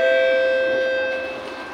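Steady hum inside a moving metro train between Ang Mo Kio and Yio Chu Kang, with sustained tonal whine from the motors, a low rumble underneath, and no voices.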